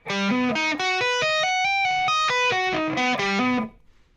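Distorted electric guitar plays a fast, legato tapped arpeggio of bright sustained notes rising and falling, loud and close, with no talking.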